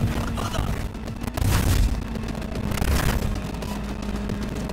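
Heavy shotgun blasts and booming combat noise in the video game Cyberpunk 2077, loud and dense, with a few stronger punches standing out from a constant roar of action.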